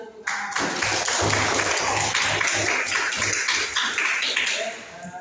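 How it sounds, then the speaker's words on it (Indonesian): Classroom applause from students during a teacher-training practice lesson, a dense patter of clapping lasting several seconds over a low hum, fairly close and steady before fading out. "kita kasih tepuk tangan"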